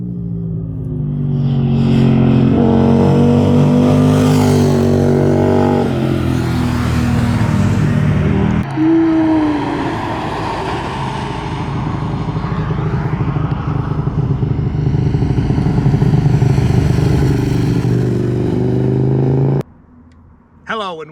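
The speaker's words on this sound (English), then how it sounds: "So here we go, my own personal Tuono 1000R" A 2008 Aprilia Tuono 1000R V-twin motorcycle rumbles loud and close, revving up and settling repeatedly over about twenty seconds, with someone talking over parts of it.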